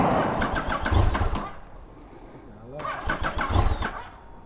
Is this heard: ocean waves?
no